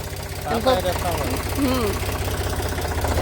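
A tractor engine chugs steadily at a low, throbbing idle throughout while a person talks over it.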